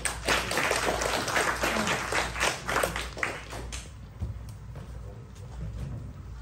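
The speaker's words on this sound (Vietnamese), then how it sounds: "Xin mời tất cả các anh chị cho một tràng pháo tay" A crowd applauding at a memorial evening, with dense, steady clapping that thins out and fades toward the end.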